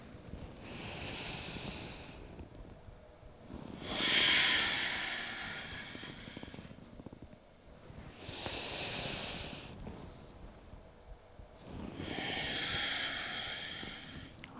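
Slow, deep yoga breathing heard up close, with four long airy breaths alternating between inhale and exhale at an unhurried pace, each rising and fading softly with quiet gaps between.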